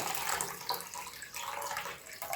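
Water sloshes and pours inside a three-litre jar of fermented pickled cucumbers as they are rinsed, a continuous close splashing and gurgling that runs steadily throughout at moderate level.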